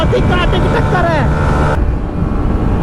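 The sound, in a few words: Honda Hornet 125 and Hero Xtreme 125 motorcycles racing side by side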